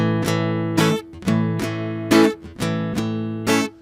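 Acoustic guitar bar chords strummed in a steady rhythm, with a muting effect choking off some strokes between ringing chords; about seven distinct strokes, close and clear, no talking.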